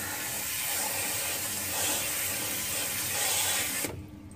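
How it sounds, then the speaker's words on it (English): Diaper sprayer shooting water, a steady close hiss of spray that holds for about four seconds and then cuts off abruptly, with no voices. "our diaper sprayer, kind of, you can rotate the spray"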